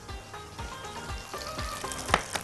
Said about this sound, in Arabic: هنزل البصلايه بسم الله، وجنبها كده الثوم، وخلينا نشوح بقى البصل والثوم